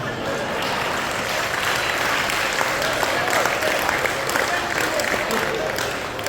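An audience at a humorous Hindi poetry recital, a kavi sammelan, claps steadily for several seconds, a close, dense applause with voices faintly mixed in.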